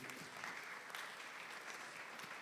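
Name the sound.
audience round of applause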